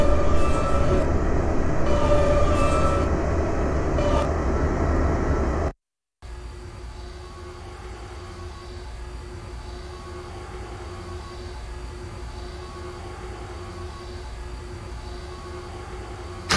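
R142A subway train in the OpenBVE NYC Subway simulator on the 5 express: a loud, steady rumble of wheels and motors, a brief cut to silence, then a continuous quieter running drone with a faint whine.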